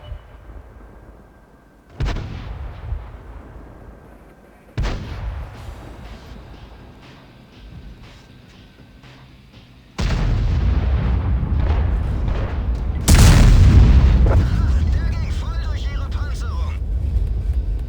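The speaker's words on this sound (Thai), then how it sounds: "ผมสังเกตเสียงปืนเนี่ยมันรู้สึกมันแน่นขึ้นนะ" In World of Tanks, several heavy Grille 15 tank gun blasts boom at irregular intervals, each followed by a rumbling tail, ending in a louder sustained roar of gunfire.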